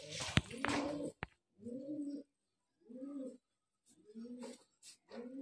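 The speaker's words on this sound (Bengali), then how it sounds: "খুব সুন্দর কোয়ালিটির পায়রা, তবে এগুলো খুব সুন্দর ওড়ানেরও পায়রা" Pigeons kept for sale as fancy flying breeds coo in a series of low, rounded calls at close range, separated by short silences, with a brief flutter and sharp knock at the start.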